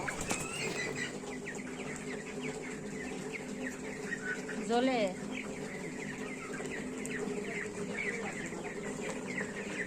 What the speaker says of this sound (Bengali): দেখো আমরা পোলট্রি মুরগিটি ভালোই বড় হয়ে গেছে